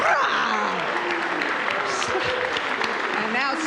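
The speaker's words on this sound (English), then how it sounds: "Now clap your hands louder" A congregation at a worship service claps loudly in a steady, dense wash of many hands that fills the room and runs without pause, with some voices mixed in.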